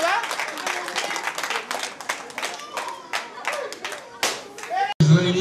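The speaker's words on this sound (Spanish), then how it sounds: "Aplausos para la princesa" Partygoers clap for the princess at a children's party, quick irregular hand clapping that runs steadily with a voice speaking over it. The clapping cuts off briefly near the end.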